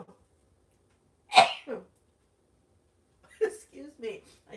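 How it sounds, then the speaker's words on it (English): A single sharp sneeze bursts out of near silence, followed a moment later by a few quiet spoken words. "I sneezed into my elbow."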